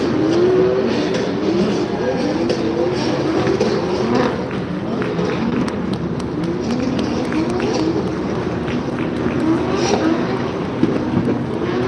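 A 1200 horsepower GT86 drift car, an RBR Motorsport build, drives at Silverstone with its engine roaring steadily and revving throughout, carrying a constant loud drone of racing noise.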